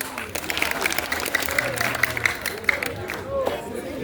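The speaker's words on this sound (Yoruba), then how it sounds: "Ẹ pàtẹ́wọ́ fèmí náà." An audience claps steadily at a Yoruba-language school quiz in a grammar school hall in Ibadan, with dense, even applause and a low murmur of voices running for several seconds.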